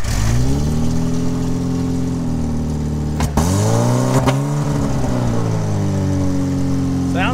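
A Suzuki Samurai off-road rig's engine idles and revs up and down close by, a loud, steady mechanical drone with rising and falling pitch and a couple of sharp clunks.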